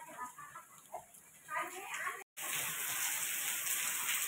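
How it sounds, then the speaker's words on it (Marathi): Heavy rain pours down outdoors with water running, a steady dense hiss that swells and then fills the second half loudly after a brief dropout, with faint talking early on. "इकडे एवढा पाऊस पडायला, पाणी वाहिलंय."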